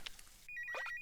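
A cartoon telephone rings in The Amazing Digital Circus fast food episode, with bright repeated electronic trills that start after a short pause and continue steadily, close and clear.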